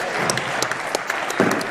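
At a squash match in the Dutch Eredivisie, a crowd applauds after a rally, with dense, steady clapping and a few sharper individual claps, close and fairly loud.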